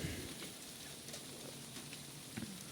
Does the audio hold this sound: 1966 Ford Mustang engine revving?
no